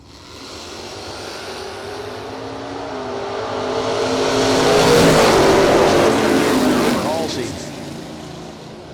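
Drag racing launch between a '72 Vega and a Chevy-powered Mustang with atomizer race injectors, engines roaring up from a distance into a loud peak and fading away, with a crowd and announcer underneath.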